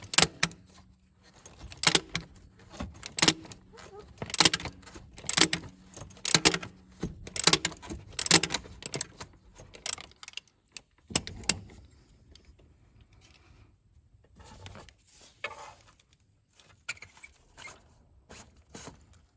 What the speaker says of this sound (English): Not a lot of room to work with a ratchet in here, so you turn a little bit at a time.